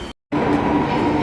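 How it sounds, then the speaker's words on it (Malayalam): A train runs through a Chennai metro station with a steady, close rumble that drops out briefly before resuming with a continuous rolling sound, and no voices are heard. "അപ്പോൾ നമ്മൾ മെട്രോയിൽ എത്തിയിട്ടുണ്ട്"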